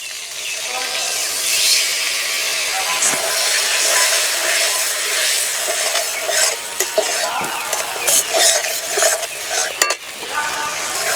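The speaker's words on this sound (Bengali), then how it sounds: "মশলা 1 মিনিট ভেজে নিয়েছি" Spices fry in a pan for a lata fish curry, a steady loud sizzle broken by stirring scrapes and light clinks of a spoon against the pan.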